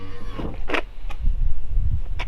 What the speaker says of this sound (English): When you open the door, the steps drop down.